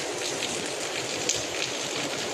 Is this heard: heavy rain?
yes